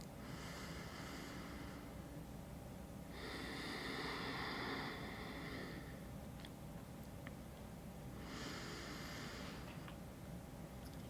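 Slow, deep breathing during a yoga stretch, with long airy inhales and exhales in steady cycles, soft and close over a constant background hiss.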